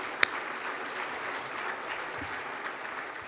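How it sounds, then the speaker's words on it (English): An audience at a live State of the City event in Portsmouth, Virginia applauds steadily, a dense even clapping that fills the whole moment at moderate distance. "Let's give them a round of applause."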